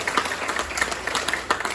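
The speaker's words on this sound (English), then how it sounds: "So we can just get a quick round of applause for Clint." A short round of audience applause for Clint at a Tamarack Fire restoration public meeting in Alpine County, with sparse, distinct claps from a modest crowd over a couple of seconds.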